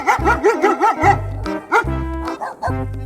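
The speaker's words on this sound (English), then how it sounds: "D for dog." A dog barks several times in quick, yappy bursts, mixed with whimpering cries and some low synthetic tones in between.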